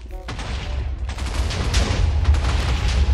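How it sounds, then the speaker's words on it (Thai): TNT explosions in Minecraft, a dense rolling series of blasts and rumbling booms, loud and continuous over three seconds, with faint voice-like traces at the start. "ใช้ TNT กี่ลูกในการระเบิดบ้านหลังนี้"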